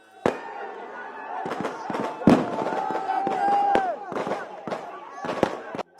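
Fireworks burst in a rapid series of sharp cracks and bangs, some close and loud, with a crowd cheering and shouting between the blasts during a cricket match celebration in Vizhinjam.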